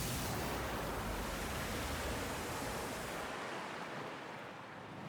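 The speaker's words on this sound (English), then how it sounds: "A massive column of swirling water rises before you, lifting the middle of the arena high into the air." A massive column of swirling water erupts in an arena in Pillars of Eternity 2: Deadfire, a loud, dense roar of rushing water that fills everything before easing off slightly at the end.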